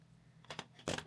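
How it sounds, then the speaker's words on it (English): Scissors snip through crochet yarn on a handmade flower bag, giving two or three quick, close, crisp cuts with a brief gap between them and no talk. "So I'm actually just going to cut this off."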